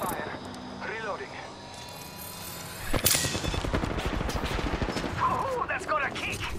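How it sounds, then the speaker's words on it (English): In the Apex Legends video game, a sharp burst of rapid automatic gunfire erupts partway through and keeps rattling close and loud, with game voices and effects sounding before and during it. "I'm taking fire."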